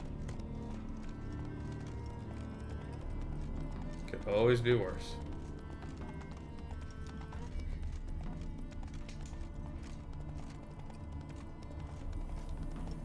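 Roach, a horse in The Witcher 3, clip-clops along steadily with rhythmic hoofbeats and a brief whinny partway through, while someone talks quietly over the sound.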